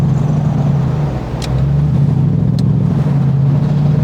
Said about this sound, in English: The car sounds quieter and easier to drive around